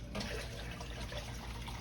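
Turkey stock pours steadily into a pot holding meat, with a continuous splashing gurgle, quiet and close, with no talking.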